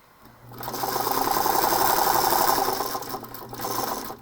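A sewing machine stitches a seam through fabric with a steady, close mechanical whir that builds up, holds for a couple of seconds, then tapers off into a shorter burst.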